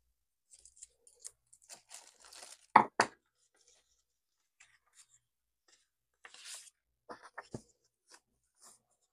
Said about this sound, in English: Oops, I think I need to cut this. Let me just cut this piece off.